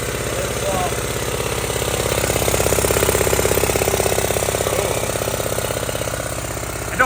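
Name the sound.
Honda Z50 engine running rough and popping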